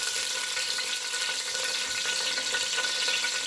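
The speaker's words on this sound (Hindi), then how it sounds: "ऑयल डालने के बाद मैं ज़ीरा इसमें डाल दूँगी तकरीबन हाफ़ टी स्पून से 1" Cumin seeds sizzle in about a cup of hot oil, a dense, steady crackling hiss that stays loud and even throughout with no voices.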